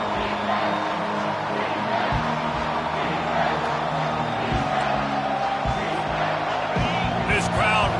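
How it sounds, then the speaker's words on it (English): Football stadium crowd roaring as the home fans rise to back their defense on a short third down, a broad sustained swell of cheering with thumps and an announcer talking over it. "This crowd rising up, sensing that its defense needs some help."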